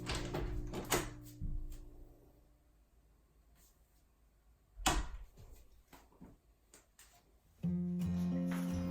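A newly installed self-closing door swinging shut on its closer, ending in a sharp thud and latch click, with softer handling knocks afterward and a steady hum starting near the end.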